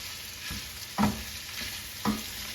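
Spinach and sun-dried tomatoes sizzling in a pan with a steady frying hiss, broken by two distinct stirring scrapes about a second apart, heard up close with no talking.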